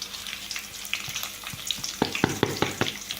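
Cumin seeds and chillies sizzle in hot oil while being sautéed for lemon rice. A steady fry crackles beneath sharp, close scraping and tapping from the stirring, and the strokes grow more frequent toward the end.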